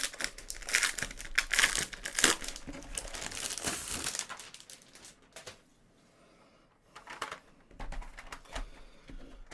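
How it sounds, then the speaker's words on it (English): Cellophane is crinkled and torn off a Stabilo Arty marker set, close-up crackling in bursts over the first few seconds, then a pause and softer rustles. "let me just open the cellophane for this and get it out properly"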